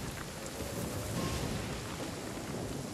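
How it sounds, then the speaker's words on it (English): Steady rain in Genshin Impact hisses continuously for three seconds at a moderate, even level, with a low rumbling underneath. "Oh my god, it's raining."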